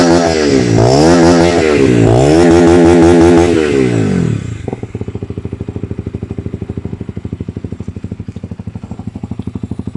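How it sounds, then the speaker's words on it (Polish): A Romet Division 125cc motorcycle revs hard twice, then settles into a steady, rhythmic exhaust burble at idle, loud and close, with no voices. "Cały czas słyszycie, jak sobie pyrka tutaj z wydechu."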